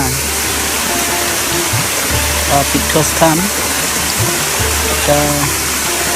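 Chakhroi Paokhai waterfall, a sacred pilgrimage site in Khagrachari, roars as a steady, loud rush of falling water, with someone speaking over it throughout.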